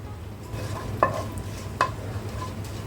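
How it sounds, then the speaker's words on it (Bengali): Whole cumin, bay leaf and whole garam masala crackle in hot mustard oil, a soft steady sizzle broken by a few sharp pops and light stirring clicks, close and fairly quiet. "তেল গরম হয়ে গিয়েছে, দিয়ে দিচ্ছি গোটা জিরা, দিচ্ছি তেজপাতা, দিচ্ছি গোটা গরম মশলা"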